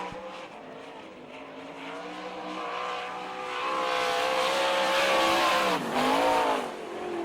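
Kenny Jacobs' Tom Honecker sprint race car, sponsored by Goodyear, laps the dirt track at the All Star Circuit of Champions Winter Nationals in Gibsonton, Florida, its engine droning loudly and rising, then dipping sharply as it passes before climbing again.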